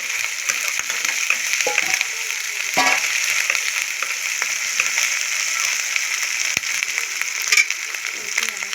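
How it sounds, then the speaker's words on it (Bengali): Garlic and ginger frying in a pan, a steady close sizzle throughout with a few faint stirring scrapes and no voices. "আদা রসুনটা একটু ছাড়া হয়ে গেছে, ভাজা হয়ে গেছে"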